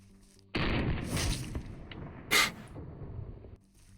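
American Eagle 40 grain round fired from an FN57 pistol into a gel block: a sharp burst opening into a sustained noisy roar lasting a few seconds, with a second brief loud crack in the middle.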